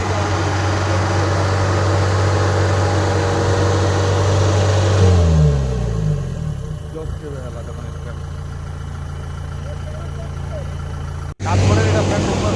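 Engine of a paddy harvesting machine running in a rice field in Kalahandi, a loud steady drone that shifts pitch and drops in speed midway, then cuts out briefly and returns near the end.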